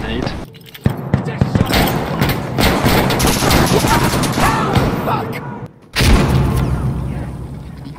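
Frag grenade blast in Insurgency: Sandstorm amid dense, loud gunfire and booms, a sharp burst after a brief gap near the end, with voices talking over the chaos.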